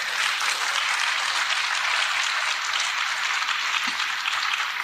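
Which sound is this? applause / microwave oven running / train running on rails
applause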